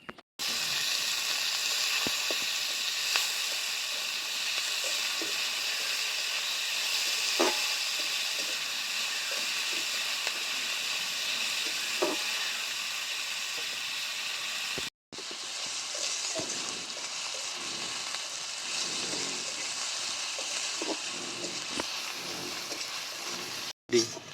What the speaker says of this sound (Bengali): এবার ভেজে নেব পেঁয়াজ কুচোনা।